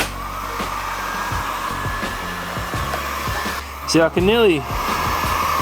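A heat gun blows steadily at close range while warming the front bumper of a Mitsubishi Evo 9, a continuous airy roar throughout with brief talk and a couple of louder bursts near the end.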